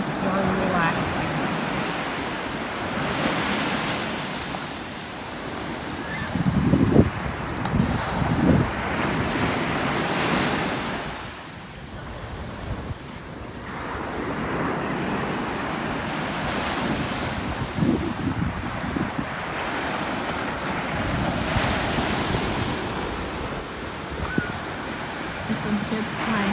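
Ocean waves break on a beach in the early morning under gusting wind, a continuous near roar that swells and eases with a few louder surges, while voices speak faintly in the background.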